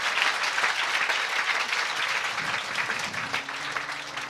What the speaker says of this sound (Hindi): Just clap your hands and praise the Lord.